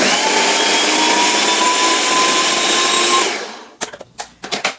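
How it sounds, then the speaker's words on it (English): A loud, steady whirring blender blending tomatoes runs for about three seconds, then cuts off, leaving a few clattering knocks. "So let's blend this first."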